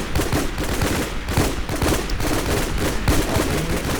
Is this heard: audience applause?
no